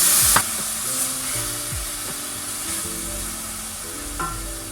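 Tomatoes frying in a pan, a soft continuous sizzle with a few light clicks of utensil against the pan, no voices.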